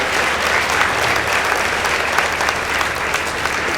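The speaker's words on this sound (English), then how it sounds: "Let's appreciate them with a round of applause." Steady, dense applause from a crowd at a high school competition, sustained at an even level throughout.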